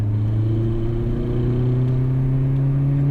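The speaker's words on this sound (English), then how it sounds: "here's a third gear pull from 35 miles an hour" Volkswagen GTI pulling in third gear from 35 mph, a steady, close engine drone rising slowly in pitch as it gains speed, with no voices.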